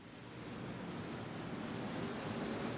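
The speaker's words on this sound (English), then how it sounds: "we're going to deglaze the pan with 1 ounce of ouzo" A pan of shallots and garlic deglazed with ouzo, a steady, dense hiss and sizzle that holds evenly throughout, close and continuous.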